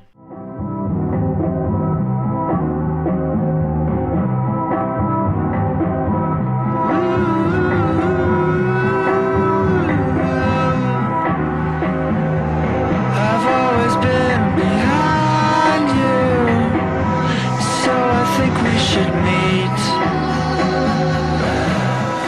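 A steady music disc track plays continuously from a Minecraft jukebox on Xbox 360, dense layered instruments that build brighter partway through, with no talking.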